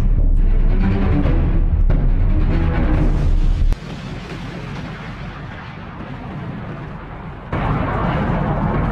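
A car blows up and wrecks a McDonald's restaurant in a Ronald McDonald horror video game, a loud booming blast roaring on for seconds, then a duller rumbling aftermath before the roar swells again, with no talk.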